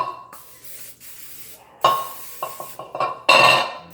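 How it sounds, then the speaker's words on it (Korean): Cooking spray hisses into a baking pan in a home kitchen while chocolate chip banana bread is being made, in several short bursts over light background clatter. "스프레이 뿌리고"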